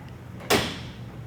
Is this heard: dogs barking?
no